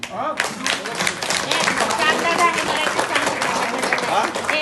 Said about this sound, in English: Please clap him.